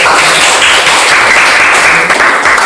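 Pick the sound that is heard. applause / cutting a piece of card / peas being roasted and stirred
applause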